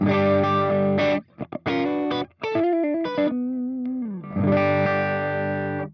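A clean rock tone comes from an electric guitar through an Audio Singularity Tangie amp: chords and quick choppy stabs, a bending single-note line, then a final ringing chord, loud and up close.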